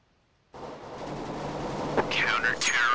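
Automatic rifle fire in Counter-Strike: Global Offensive bursts in abruptly after a moment of silence, a loud continuous rattle of shots that keeps going to the end, with faint voices mixed in.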